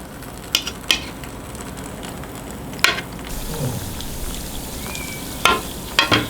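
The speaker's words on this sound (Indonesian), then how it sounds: "minyaknya sudah panas kita goreng ini" Frozen food snacks frying in a little hot oil, a soft continuous sizzle with a few sharp clicks and pops of utensils scattered throughout, close and without talk.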